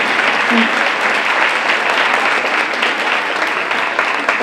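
A large audience of parents, moms, dads and grandparents applauds steadily at a school district awards ceremony, a dense, loud, continuous clapping that holds evenly throughout.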